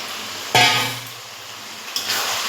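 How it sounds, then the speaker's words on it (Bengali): Fried potatoes drop into a pan of spiced chicken masala with one sharp clatter and a loud sizzle that fades, then a second, softer scrape and sizzle near the end. "এবার এই ভেজে রাখা আলুগুলো দিয়ে দেবো আগে"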